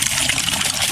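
Water pouring from a hand-operated water pump at an outdoor washing spot, a steady close splashing trickle running through the whole moment without pause.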